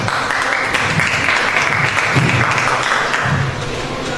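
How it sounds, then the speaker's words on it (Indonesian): An audience of parents and teachers at a school dissemination session on positive culture claps steadily together for about four seconds, a dense, even patter that holds its level and then eases slightly near the end. "Tepuk tangan Bapak Ibu."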